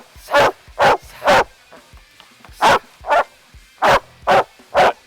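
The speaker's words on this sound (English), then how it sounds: "So he's like, okay, I bark." A police K9 dog barks from inside a box, giving about eight loud, sharp barks at a steady, evenly spaced rhythm, close by.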